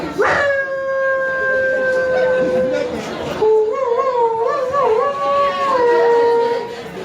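A human voice imitates a dog barking and howling at midnight as part of a staged event performance. Two long, wavering howl-like calls sit close and loud, the second one bending up and down in pitch.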